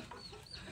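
Hen clucking on a farm among cows and chickens, faint and distant, with steady background noise throughout.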